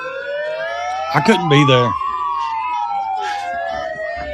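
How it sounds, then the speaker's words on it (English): A siren at a live protest wails with rising and falling tones at moderate distance, running throughout as someone speaks briefly over it. "I'd break that siren."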